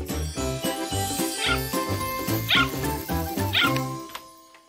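A cartoon puppy yips and barks in short bursts over a bright, busy musical score with jingling tones, the small bark sounds repeating roughly once a second throughout.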